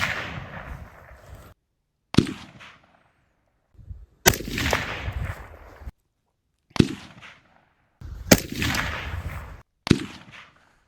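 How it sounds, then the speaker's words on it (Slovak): A series of sharp gunshot cracks from a .223 Rem rifle with an Ase Utra suppressor, heard from 500 metres, about seven, spaced a second or two apart, each with a short decaying tail and silence between. "Ideme si vypočuť, ako znie streľba s tomičom"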